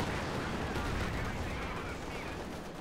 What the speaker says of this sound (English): Here comes artillery.